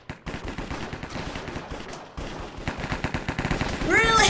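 Rapid gunfire from the Hypixel Cops and Crims video game, a dense run of sharp repeated shots that grows louder and busier toward the end, with a brief gap partway through.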